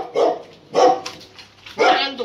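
A pet dog barks in three loud, separate bursts at home while its owner hand-feeds it biscuits, with short pauses between barks.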